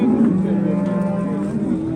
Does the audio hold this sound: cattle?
yes